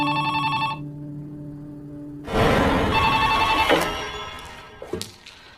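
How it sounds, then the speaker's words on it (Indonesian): An old-style telephone bell rings in a short burst, then after a pause a clattering rush of noise and a few knocks follow. "meskipun kabelnya sudah terlepas, telepon itu masih saja berbunyi"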